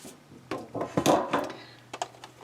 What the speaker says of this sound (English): The lid comes off completely.